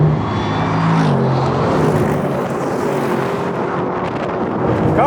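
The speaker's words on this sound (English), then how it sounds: "That is the sound of supercharged V8." Supercharged V8 of a Mercedes-Benz SLS AMG or SLR McLaren in a drag race, a loud sustained engine roar with a gear change near the start and steady wind rush throughout.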